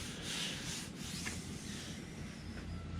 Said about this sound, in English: I'm going to be going through with a 200 grit paper, making it more smooth along the edges